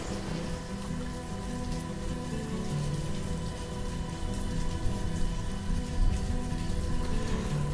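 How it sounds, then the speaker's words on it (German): Steady rain falls in the city-building game Banished as a dense, even patter of drops. It stays constant and moderately loud throughout with no talk. "dass es schon wieder regnet. Es regnet und regnet und regnet in diesem Spiel."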